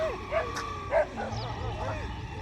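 Dogs bark and yip in a few short, scattered bursts, moderately distant, over a low rumbling background.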